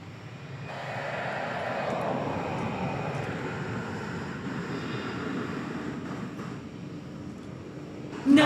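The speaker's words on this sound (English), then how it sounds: "Get a quick shot of the ABX Air cargo plane 767. Headed over to the east side for departure." An ABX Air cargo Boeing 767 departing DFW Airport at night, its jet engines producing a broad, steady roar at a moderate distance that holds for several seconds before easing slightly.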